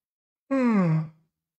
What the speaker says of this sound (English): Oh my god, I'm yawning.